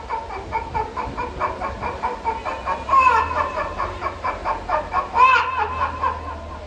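A man vocally imitates a hen, rapid repeated clucks in a quick bouncing rhythm with two sharper, higher squawks, close and clear with no other sound.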